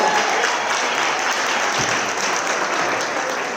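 Audience applause greets three panelists coming onstage at a women-in-AI conference panel, a dense, steady roar of many hands clapping close by, sustained and even throughout with no talk over it.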